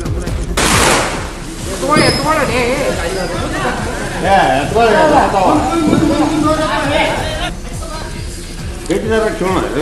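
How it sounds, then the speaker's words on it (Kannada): Rapid bursts of firecrackers crackle and pop amid a noisy crowd, with people chattering and shouting throughout. "ಪಟಾಕಿ ಸಿಡಿಸಿ ಸಂಭ್ರಮಿಸಿದ್ದಾರೆ"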